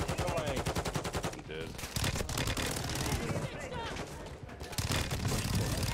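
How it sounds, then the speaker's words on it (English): Rapid automatic gunfire from an enemy bot in Warzone 2.0, dense bursts of shots close and loud throughout, with someone talking over the shooting. "Yo, the bot is shooting me."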